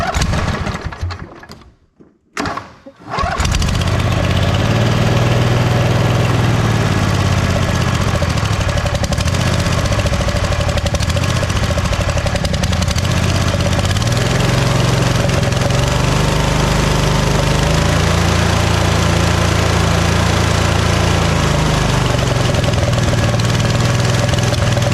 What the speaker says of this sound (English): It's still kind of spitting and sputtering, so we'll have to go through the carburetor.